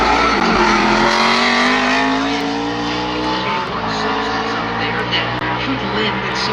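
A NASCAR Cup race car screams at full throttle on a qualifying lap at ISM Raceway, its engine note rising and falling loud and close, with a commentator talking over it throughout.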